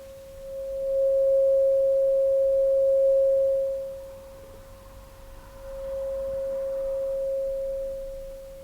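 A steady single-pitch hearing test tone plays twice, each beep held for a few seconds with a short silent gap between, clear and isolated in a quiet room.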